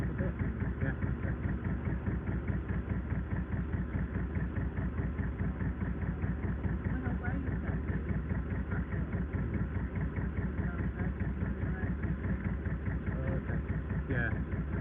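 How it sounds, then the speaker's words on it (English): A tractor engine runs nearby with a steady, throbbing mid-low rumble and regular pulsing, continuous throughout, while people talk over it. "I noticed there was a tractor going round"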